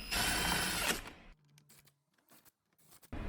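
A quick burst of close ratchet clicking tightens the bolts on a 2015 Ford F-150 driver's side mirror in a parking garage, followed by scattered small taps and clicks amid quieter pauses.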